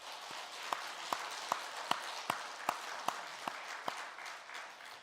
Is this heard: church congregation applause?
yes